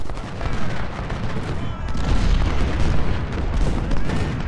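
Cannon and artillery fire in the American Civil War battle game Ultimate General: Civil War rolls on as a dense, loud din of overlapping booms and crackling shots.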